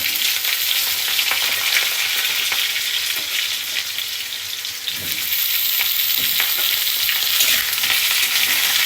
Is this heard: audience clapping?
no